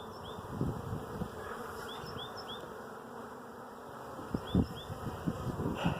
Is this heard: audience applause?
no